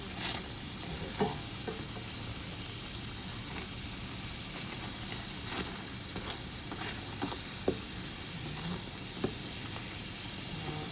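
Egg and onion frying in a pan, a continuous soft sizzle with occasional pops and stirring scrapes, close but fairly quiet, with no talking.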